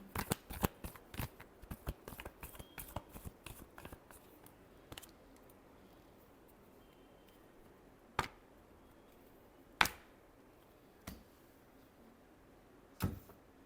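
Tarot cards being shuffled, a rapid run of crisp riffling snaps at first, then a few isolated sharp card slaps spaced seconds apart in a quiet room.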